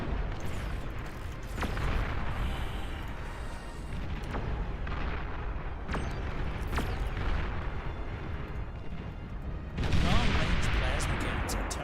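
Massed artillery batteries fire in the strategy game Beyond All Reason, a dense rumble of overlapping booms with sharper blasts scattered through, swelling louder toward the end, with a voice talking over parts of it.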